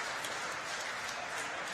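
A basketball crowd at a women's college game applauds and cheers an injured player, a steady wash of distant clapping and crowd noise.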